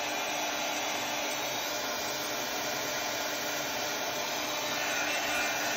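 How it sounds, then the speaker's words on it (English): Crafting heat tool blowing hot air steadily at close range, a loud continuous broadband whoosh with no pauses, used to melt paste or wax into a feather shape on a silicone mat. "I'm gonna take my heat tool."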